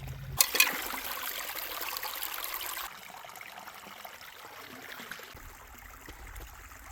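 Water trickles and splashes from a small trail-side stream into a bottle, a soft, steady close-up flow that is brighter at first and then settles into a quieter, continuous babble.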